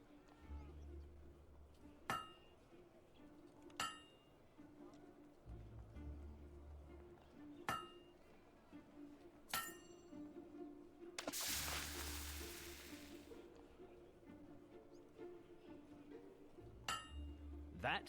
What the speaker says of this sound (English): smack an anvil with a hammer